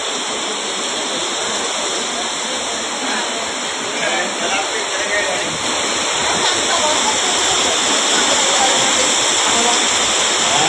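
Floodwater from heavy rain in Ramnagar, Hyderabad rushes along a road with a steady, dense roar that swells slightly louder toward the end, without pause.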